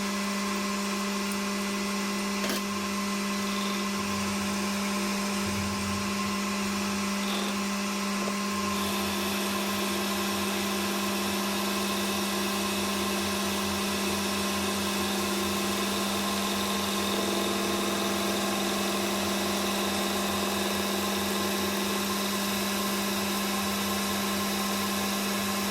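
A metal engine part for a Webster engine build is machined down to 1.5 inches, with the hard outer slag cut away. A steady, loud mechanical whine and hum runs continuously throughout, with no talking.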